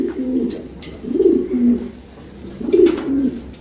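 Pigeons coo in a loft of Lahori breeds, several soft, throaty coos rising and falling in repeated phrases close by, with faint higher chirps and no talking.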